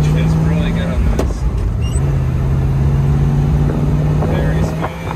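1967 Chevrolet Camaro convertible with a 4-speed manual, top down, its engine droning steadily as it drives off, loud and close with wind noise and people talking over it.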